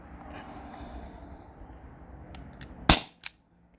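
Sharp shot from a T4E HDP50 Gen 2 13-joule gun firing steel balls, a single loud crack followed by a fainter second pop, after a quiet stretch of low background noise.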